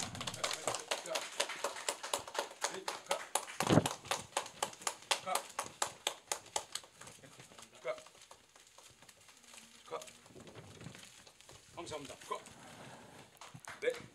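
A crowd at a Liberty Unification Party rally applauds together in a burst of dense, rhythmic clapping that fades into scattered claps and talk.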